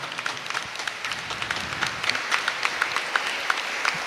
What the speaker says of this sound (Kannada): ಜೋರಾಗಿ ಚಪ್ಪಾಳೆ ಕೊಡ್ತಾನೆ ನಾವು